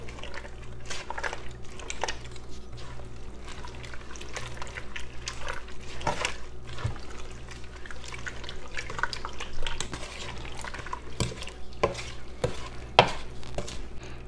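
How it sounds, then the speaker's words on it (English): Zucchini relish stirred in a pot: a steady run of wet, squelching spoon scrapes with a soft liquid sizzle underneath, close and continuous, with occasional sharper knocks of the spoon against the pot and no speech. "Let me stir this up."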